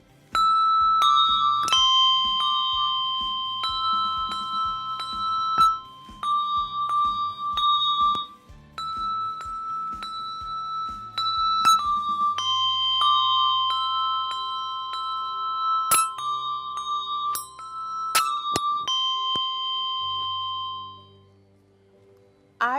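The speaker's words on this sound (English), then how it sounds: "I played the bells. You played the bells." Handbells ring out a simple, slow melody, one clear tone after another with brief pauses, ending with a few final rings.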